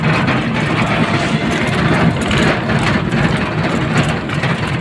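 An e-rickshaw travels a hilly road near a village market, a steady loud engine-like drone and road rumble running throughout with no breaks.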